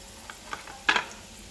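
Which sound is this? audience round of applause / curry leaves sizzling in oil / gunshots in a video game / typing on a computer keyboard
curry leaves sizzling in oil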